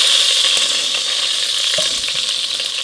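Chicken pieces for a fricassee fry in hot grease, giving a loud, steady broadband sizzle with crackling spatters and a brief clink of a utensil partway through.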